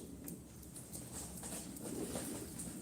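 Pigeons at a sale coo softly and faintly against a low background hum, with scattered light rustling and no speech.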